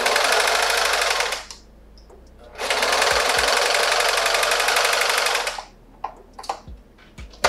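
Sewing machine stitching elastic onto a fitted cowl neck dress, two loud rapid bursts of needle chatter separated by a short pause, then fabric rustling and small clicks.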